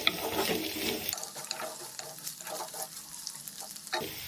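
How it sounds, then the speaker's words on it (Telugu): Water poured into a pan of sautéed onions for rava upma hits with a loud sizzle that drops sharply after about a second, leaving a softer bubbling hiss with light stirring clinks. "ఇలా ఆనియన్ మంచిగా మగ్గిన తర్వాత వాటర్ని యాడ్ చేసుకోవాలి."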